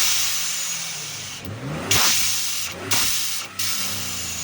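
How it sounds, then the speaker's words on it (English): Blow-off valve on a Ford Bronco Raptor engine venting to atmosphere, loud whooshing hisses over the engine's rev, repeating as the throttle is blipped and released, close by. "It just gives you that blow-off valve sound when you're hard on the gas and you let off real quick and that diverter valve opens up"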